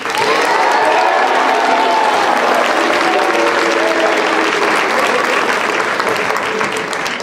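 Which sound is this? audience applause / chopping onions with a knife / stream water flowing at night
audience applause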